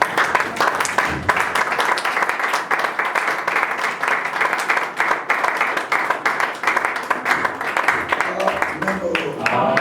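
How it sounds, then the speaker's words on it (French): A church congregation applauds at a service, with dense, steady clapping from a crowd that carries on throughout and is mixed with voices. "On acclame pour la parole du Seigneur."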